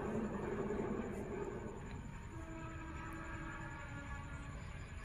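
A train hauled by a CC201 locomotive rumbles steadily past Wadu station, a low continuous roar with faint metallic tones and hiss, heard from a moderate distance with no talking.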